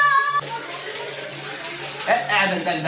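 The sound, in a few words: water filling a bucket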